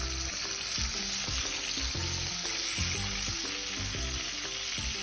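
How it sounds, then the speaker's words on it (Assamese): Pieces of fish sizzle steadily in hot oil in a wok as part of an Assamese home meal, a dense continuous crackle with occasional stirring, close and fairly loud, with no talking. "তেলখিনি গৰম হ'লে ধুনীয়াকৈ মাছখিনি ফ্ৰাই কৰি ল'ম।"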